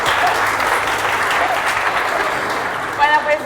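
An audience at a social-project awards ceremony applauds in a dense, continuous wash of clapping that holds steady throughout, with a brief cheer or voice rising near the end.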